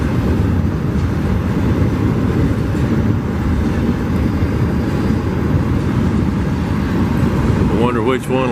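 A train rolls along railroad tracks near a rail diamond, giving a loud, steady rumble and rattle that lasts throughout, with a brief squeal near the end.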